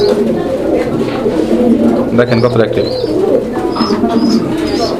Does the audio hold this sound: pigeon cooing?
yes